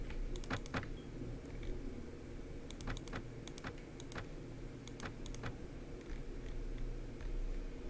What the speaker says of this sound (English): That clicking noise is too loud